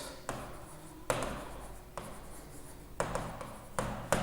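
A pen or marker writes on paper or a board in short scratchy strokes with sharp taps at the start of each, spaced irregularly across a quiet room.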